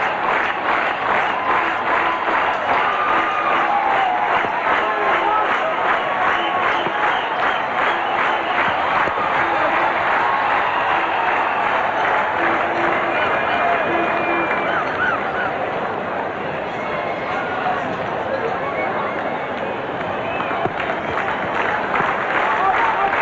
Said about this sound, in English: Approach of half-century and century brings the clapping from the crowd right round